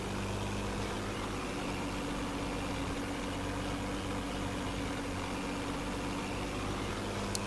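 A well-modelled tractor engine idles in a farming video game, a steady low rumbling drone that holds constant and fairly loud throughout with no talk.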